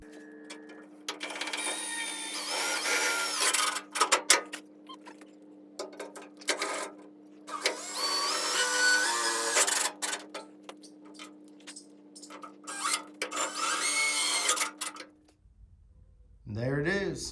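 A power drill drives self-tapping screws into a Chevy Silverado truck roll pan, with bursts of high whirring and grinding separated by pauses, close up, over a steady background hum.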